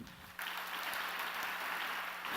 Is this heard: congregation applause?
yes